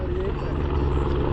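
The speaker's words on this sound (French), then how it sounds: "l'hélico qui avance, c'est à dire que ça commence à avancer dans le virage là" A helicopter hovers and moves above stage 5 of the 2026 women's Giro d'Italia cycling race, giving a loud, steady rotor roar with a rapid low chop throughout.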